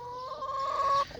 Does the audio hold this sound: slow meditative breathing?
no